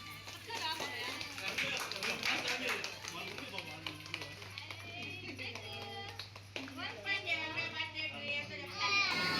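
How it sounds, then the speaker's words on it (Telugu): Guests at a little girl's birthday party clapping as the cake is cut, a busy patter of hands mixed with children's voices and adults talking over it. "అందరూ క్లాప్స్ కొట్టండి."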